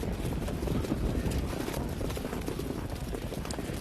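Harness racing horses trot off at the start of the 2019 Hambletonian, a steady clatter of hooves under crowd noise and commentary.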